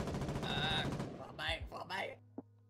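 Machine gun fire in the war game Foxhole comes as a low, rapid stuttering under a man's speech, with a short sharp crack near the end.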